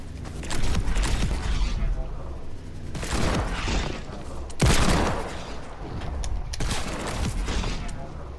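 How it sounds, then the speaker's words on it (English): Hand cannon gunshots in the video game Fortnite: four loud, booming blasts fired at irregular intervals, each decaying with a rumbling tail over continuous in-game background noise. "It's not nice to shoot people with hand cannons."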